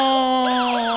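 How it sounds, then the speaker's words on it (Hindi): Loud, close police siren wailing with a sweeping, rising and falling tone over a steady underlying pitch, heard alone for about a second. "अचानक पुलिस का सायरन हुआ।"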